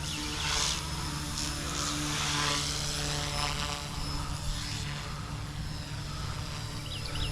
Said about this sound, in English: What a tough little helicopter now.